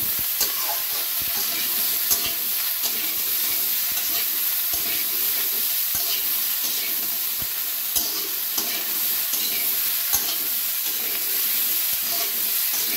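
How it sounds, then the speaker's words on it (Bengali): Pointed gourd (potol) and potato chunks fry in oil in a pan before turmeric and salt go in, giving a steady loud sizzle with scattered clicks of a spatula stirring throughout, no voices. "এটাকেও সুন্দর মতো বেশ কিছু সময় ভেজে তারপরে হলুদ লবণ দেব"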